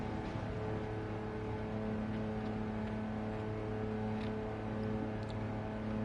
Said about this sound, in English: Do you reckon is the engine sound too loud for you guys on that end?